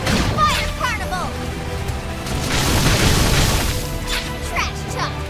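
Fire Carnival fire attack explosions in the video game Xenoblade Chronicles X, a swelling booming crash of flame bursts layered over battle music and voices, loud and dense throughout.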